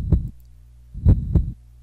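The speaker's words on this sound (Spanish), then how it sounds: "escuchó los latidos de su corazón. Pulsaba justo al lado de su oreja" Three deep heartbeat thumps in a visual novel game, a single beat followed by a close double beat, low and muffled over a faint steady hum, with no voices.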